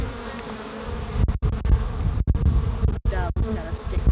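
Bees buzz loudly and continuously up close around a Layens hive, with a dense droning hum and a few brief dropouts.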